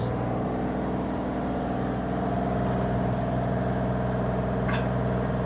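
Steady, close diesel drone of a 2024 Bobcat E35R2 compact excavator idling, constant and unbroken, with a faint high chirp near the end.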